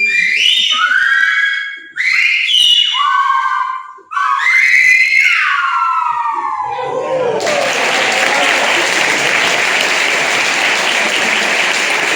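Silbo Gomero whistled language performed by several whistlers: loud, sliding whistled phrases in three bursts, followed by sustained applause and cheering from an audience.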